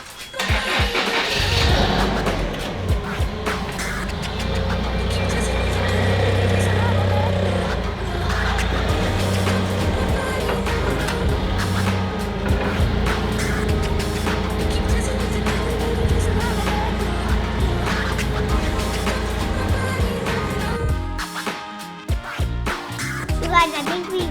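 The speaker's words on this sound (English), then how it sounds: "we're gonna take this forklift and we're gonna lift it up" A forklift starts and runs with a steady, loud low engine rumble for about twenty seconds before cutting out, with a voice heard in the background.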